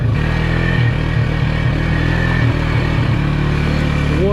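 A Polaris UTV on stock tires in two-wheel drive churns through mud, its engine droning loud and steady with a low, constant rumble and occasional clatter throughout.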